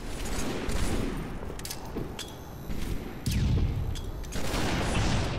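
Bursts of video game gunfire in a doubles match, rapid shots in short volleys with thumps and a steady background mix, no one speaking.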